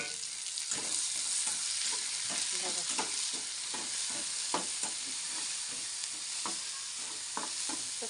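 Onions fry in a pan with a steady, soft sizzle while a spoon stirs them, scraping in repeated short strokes and occasional clinks against the metal, close by and fairly quiet.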